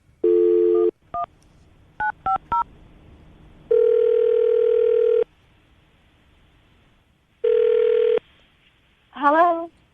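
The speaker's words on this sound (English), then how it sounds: "I'm going to dial the number right now and see if we can get her on the phone" A telephone number is keyed in for a morning radio show call: a burst of dial tone, quick DTMF beeps in a short run, longer tone stretches, then a brief warbling ring signal, each clear and close.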